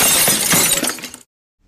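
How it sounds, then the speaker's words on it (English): A drinking glass drops and shatters in one loud, close crash, with glass fragments scattering briefly before the sound cuts to silence. "Oops, dropped my glass."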